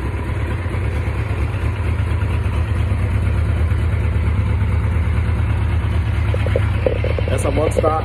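A Kawasaki Police 1000 motorcycle engine idles with a steady, low rumbling throb, close and loud, while a person talks briefly near the end.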